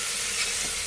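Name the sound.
onions frying in a pan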